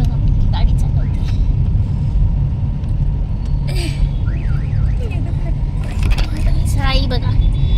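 A car driven by Sai, with her grandmother and father riding behind, gives a steady low rumble throughout, with scattered chirping tones and voices talking over it.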